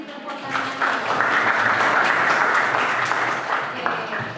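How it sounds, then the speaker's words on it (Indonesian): A classroom of students claps together after a lesson activity, a loud sustained round of applause that starts sharply and fades near the end, with faint voices mixed in. "Kasih tepuk tangan."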